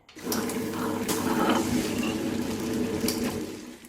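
A wet grinder grinds soaked rice with a close, steady mechanical whir and wet churning, broken by occasional clicks and knocks.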